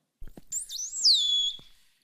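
A dolphin whistle heard alone: one clear high tone that wavers and swoops, then settles into a sustained falling glide before cutting off, with a couple of soft knocks nearby.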